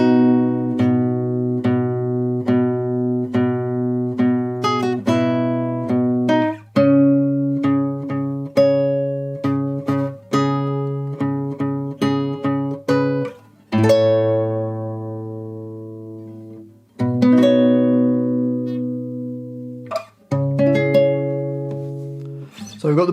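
Clean guitar plays the last line of the Assassin's Creed Rogue main theme, a sequence of plucked notes and chords, each ringing and decaying before the next, with a few pauses and longer sustained chords, loud and close with no talk.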